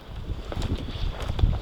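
Strong gusty wind blows across a lake, buffeting the microphone with low rumbling surges and uneven rustling bursts, no voices.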